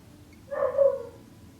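A single short dog bark or yip, fairly faint, rises briefly from a quiet room during a makeup session and fades within about half a second.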